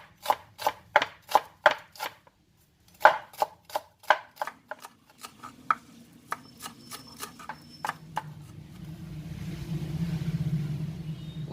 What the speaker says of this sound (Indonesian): Daun bawangnya ini saya potong halus ya.